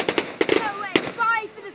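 Fireworks going off nearby, several sharp crackling bangs in quick succession followed by whistling, fizzing trails.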